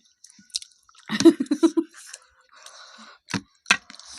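Eating fish heads, a run of close, wet chewing and biting sounds with squishy crunches in short bursts, then a few sharper bites after a pause.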